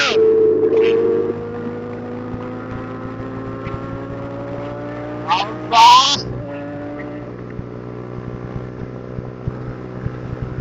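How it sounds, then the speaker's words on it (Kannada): A Kawasaki motorcycle rides past on a road trip to Sirsi. A loud, steady engine drone with wind buffeting rises and falls in pitch, with a brief, louder burst midway as it passes. "ಇನ್ನೊಂದು ಕವಾಸಲ್ಲಿ ಬಂತು ಬಂತು ಬಂತು ಬಂತು"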